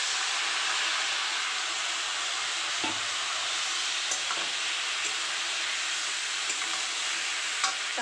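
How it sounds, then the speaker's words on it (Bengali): Vegetables including okra, green chilli and ginger tipped into fried mung dal in a hot pan, a strong continuous sizzle with light scraping and stirring taps throughout, no speech. "এবার সবজিগুলো ঢেলে দেবো।"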